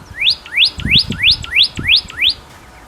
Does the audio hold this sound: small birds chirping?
yes